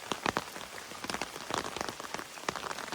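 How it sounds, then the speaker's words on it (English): Heavy rain pattering on a camping tarp over a hammock, dense irregular drops striking close by, with no other sounds. "Hope this rain passes over."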